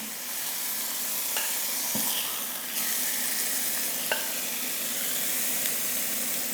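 Pork chops frying in a pan, a loud, dense, constant sizzle with occasional faint clicks and taps, close up and without talk.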